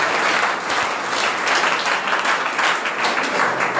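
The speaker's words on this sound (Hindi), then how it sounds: "ताली बजा दें इसके नाम" Sustained audience applause honoring the top-scoring coaching student, a dense steady wash of many hands clapping together, loud and continuous throughout with no talk over it.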